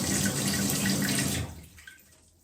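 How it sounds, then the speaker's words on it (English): The tank of an EPLO iX7 smart toilet refilling with water, a loud steady rush that suddenly drops away after about a second and a half, leaving a faint trickle. "With an equally powerful filling of the tank"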